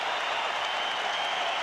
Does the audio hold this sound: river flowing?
no